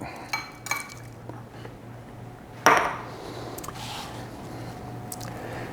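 Apple pieces are stirred with lime juice in a bowl, giving a few soft clinks and one sharp spoon-on-bowl knock, with faint wet shuffling afterward and no voices.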